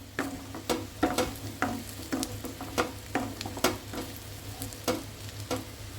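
Prawn fry stirred in a hot pan gives a continuous sizzle with rhythmic scraping strokes of the spatula, roughly two per second, close and fairly loud, with no speech.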